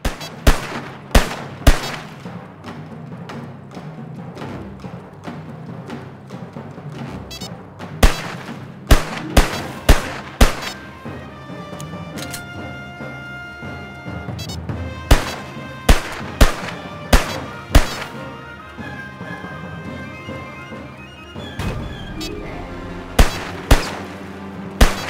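Pistol shots fired at target portraits in the video game Mercenaries 2 crack out sharply in irregular bursts, loud single reports and quick clusters ringing over a continuous background of game music and ambience.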